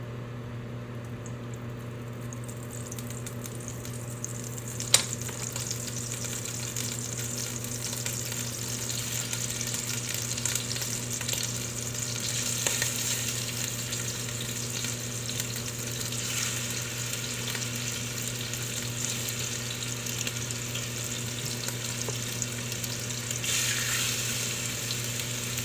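Chicken sears in avocado oil and butter with a continuous close frying hiss and crackle over a steady low hum, plus a single sharp click early on, and no talking.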